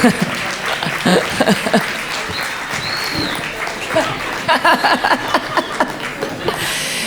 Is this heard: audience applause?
yes